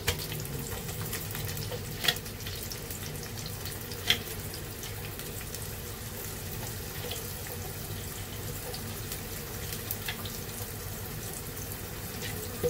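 Onion frying in oil with cloves, cinnamon, bay leaf and cardamom: a continuous hissing, watery sizzle that stays level throughout, broken by a few sharp clicks of a spoon against the pan, with no voices.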